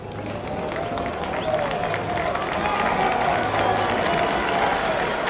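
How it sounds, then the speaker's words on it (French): Audience applause at the Cannes Film Festival: dense, steady clapping from a large crowd that stays loud and even throughout, with a faint murmur of voices mixed in. "Alors ça peut se faire sous les applaudissements"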